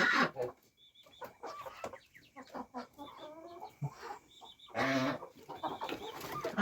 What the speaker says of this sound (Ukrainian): Тепер це уже кури.